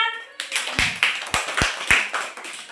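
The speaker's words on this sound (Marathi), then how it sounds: "अठरा टाळ्या वाजवा" Children clap their hands in a classroom, about six sharp claps in a loose rhythm, close and clear; a short voice comes just before.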